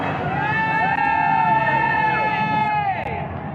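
A crowd at an independence march cheers and whoops for arriving bikers, a loud, sustained roar of voices with shouted calls riding over the babble.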